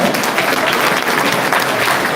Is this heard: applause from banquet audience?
yes